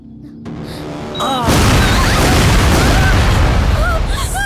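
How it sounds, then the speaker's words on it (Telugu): A car blows up in a Telugu film scene, a loud deep boom that erupts after a brief lead-in and rolls into sustained roaring blast noise, with shouting voices breaking through. "సెల్వా, రెండిట్లో ఏది బాగా పేలింది?"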